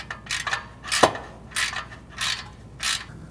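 A hand ratchet clicks in short, close, separate bursts, about five strokes in three seconds, as it tightens the catalytic converter nuts under a 2000 Honda Civic, with no talking.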